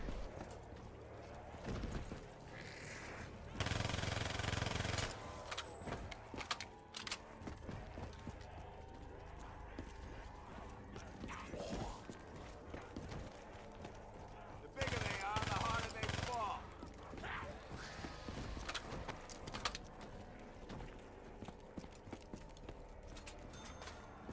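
Gunfire bursts from the Call of Duty Black Ops 3 Zombies map Shadows of Evil, irregular loud volleys and single shots among game effects and clattering, scattered across the span.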